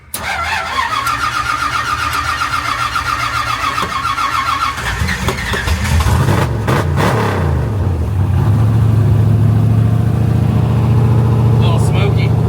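Car engine cranking, catching and then revving hard at a wheel factory, loud and close, with a steady roar building toward the end while people talk over it.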